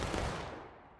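A musket volley fired on command at a reenactment event, one loud broad blast that fills the moment and then fades away over the following second, with no voices heard.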